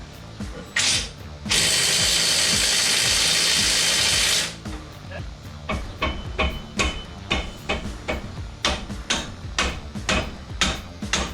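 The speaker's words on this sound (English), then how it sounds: "I'm just going to remove the brake caliper bracket and caliper as a unit. So it's two 15mm bolts that hold the brake caliper bracket on." A pneumatic impact wrench zips off the two 15mm caliper bracket bolts on a Camaro, with one long loud burst followed by rapid ratcheting clicks and metallic taps close up in a garage.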